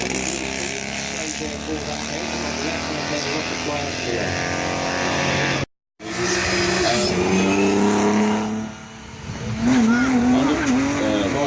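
A Norton Dominator, an ex-grass-track motorcycle, roars as it accelerates around a race circuit, its engine note rising and falling through the gears with a brief dropout midway, while a commentator talks over it throughout.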